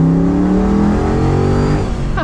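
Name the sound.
Ford Bronco Coyote V8 engine with custom exhaust revving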